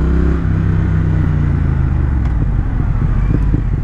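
Triumph Thruxton R motorcycle fitted with an aftermarket Vance & Hines exhaust, its engine rumbling loud and close with a steady low throb and rhythmic pulsing, with no talk over it.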